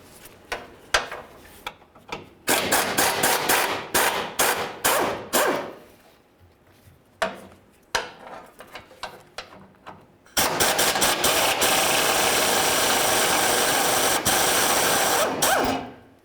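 A ratchet removes the fuel tank mounting bolts on the driver's side of a 1994-2004 Chevy S-10. It runs in short, loud mechanical bursts, then in one long sustained run, close by with no speech.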